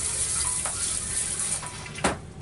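Water rushes steadily into an RV toilet bowl, a continuous broadband splashing flow with a couple of brief sharper gushes near the end; no one speaks.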